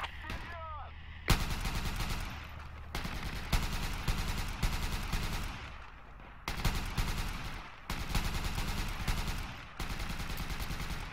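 Heavy gunfire fills an urban battle for Grozny in Project Reality BF2, with Russian forces fighting. Loud, close bursts of rifle and machine-gun fire come in repeated volleys with short gaps between them, layered over distant shots.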